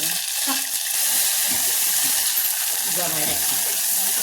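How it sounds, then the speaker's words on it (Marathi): Ground masala with onion, tomato and curry leaves frying in oil in a pan, a loud, constant crackling sizzle with occasional stirring scrapes, close and without talk. "चांगला मसाला भाजून घ्यायचा"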